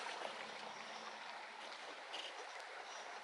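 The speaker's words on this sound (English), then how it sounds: "we're right next to this whole big old river here." A big river flows beside a campsite off the Dempster Highway in Alaska, giving a steady, close broadband rush of moving water with no break and no voices.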